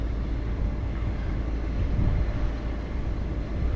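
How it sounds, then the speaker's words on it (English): Wind blows steadily outdoors at a high viewpoint, making a loud, continuous low rumble with gusty buffeting against the microphone and no talking. "That wind's picked up nicely."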